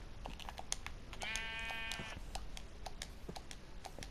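A sheep bleats once in Minecraft, a short wavering cry over a background of rapid keyboard or controller clicks that continue throughout the clip.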